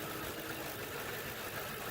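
A 2010 Ford Crown Victoria Police Interceptor's engine idles with a low, smooth hum, steady and quiet, with no speech.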